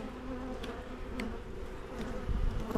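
Honey bees drone around an opened hive while splits are being made, a dense, steady buzzing swarm close by with individual insects flitting past, no talking.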